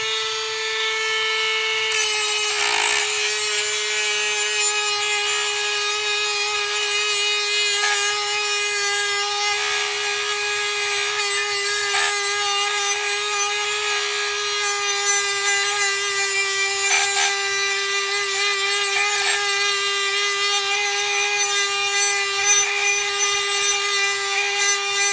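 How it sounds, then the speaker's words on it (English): A high-pitched 12V cordless rotary tool whines steadily while sanding metal, with a continuous abrasive rasp and small variations in load. "So let's do a little sanding and see how that works."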